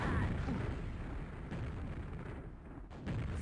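Rocket-jump explosions in a QuakeWorld duel on the ZTN map, a continuous run of loud, dense booming blasts and bursts that barely let up across the few seconds.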